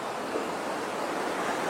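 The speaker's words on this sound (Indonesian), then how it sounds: "ada air mengalir tapi lewat jalur-jalur sempit ini nih" Water rushes steadily through narrow rock channels inside a coastal cave, a continuous broadband hiss and gurgle close to the microphone, with no voices.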